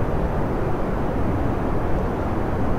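Spacecraft engines at takeoff in the video game Kerbal Space Program, a steady loud roaring rumble, dense and unbroken throughout with no variation or voices.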